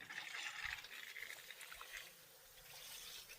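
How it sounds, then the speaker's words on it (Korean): Faint, steady trickle of irrigation water flowing through field lines, with a soft hiss, fairly distant and continuous. "물소리 들리죠"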